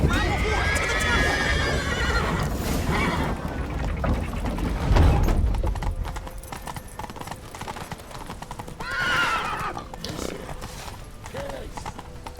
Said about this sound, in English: Grab a horse to the temple!